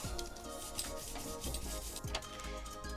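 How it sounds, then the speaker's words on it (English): A big beef kebab sizzles on an oiled hot grill as a close, steady crackling hiss mixed with light scraping and clinks. "can you hear that sizzle?"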